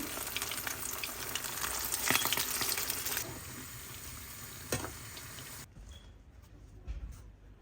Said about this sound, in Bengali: পাতার বড়াগুলো এখন ভেজে নিচ্ছি।